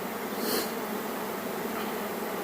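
A decent-sized swarm of honey bees, being moved into a hive super, fills the air with a dense, steady buzzing that stays close and constant throughout, with no talking.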